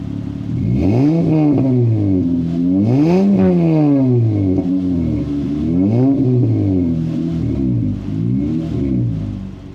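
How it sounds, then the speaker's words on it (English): A car engine with aftermarket headers revs repeatedly, its exhaust note rising and falling in loud, throaty sweeps, with no talking. "The exhaust sounded great with the headers."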